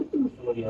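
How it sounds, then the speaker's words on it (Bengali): A domestic flying pigeon of the home-bred racing kind gives a short, low, throaty coo close by, rising and falling in two soft swells with a bit of background murmur. "এই কবুতর কি আপনার বাসার বিটার কবুতর"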